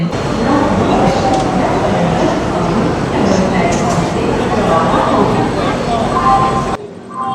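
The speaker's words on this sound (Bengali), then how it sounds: "হাওড়া স্টেশন থেকে দুন এক্সপ্রেস তার সঠিক সময়ে যাত্রাপথ শুরু করলো হরিদ্বারের পথে" The Doon Express train pulls out of Howrah station, a loud continuous rumble and clatter of rolling coaches heard from on board, with a person talking over it.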